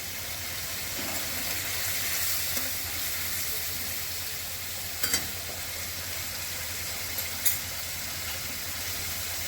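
Grated garlic and ginger hit hot oil in a pan for a paneer bharta, giving a close, steady sizzle with a few brief clinks and scrapes of stirring scattered through.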